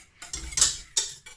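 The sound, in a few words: whisking coconut milk mixture with a whisk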